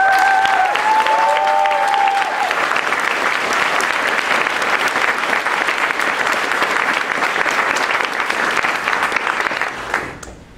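A graduation audience at a 2017 high school ceremony applauds a teacher with steady, dense clapping that holds for about ten seconds before tapering off at the end, with a few faint whistles or cheers near the start.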